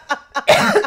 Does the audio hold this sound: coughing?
yes